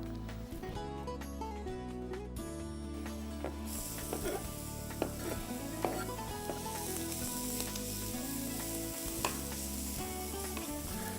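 Carrots sizzle and crackle steadily in hot oil, with occasional clicks and scrapes of stirring throughout.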